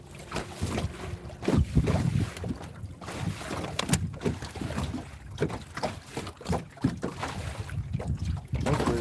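Gusty wind buffets the microphone on a small fishing boat on the water, rising and falling in uneven rushes with faint knocks and creaks from the hull, close and fairly loud, with no speech.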